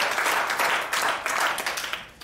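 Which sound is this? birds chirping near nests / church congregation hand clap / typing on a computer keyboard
church congregation hand clap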